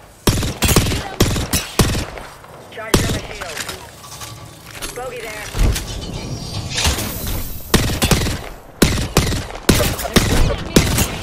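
Repeated bursts of gunfire in an Apex Legends battle, sharp cracks and rapid volleys with a loud shot from a Kraber sniper rifle, scattered across the clip with brief gaps, over game voice lines and effects.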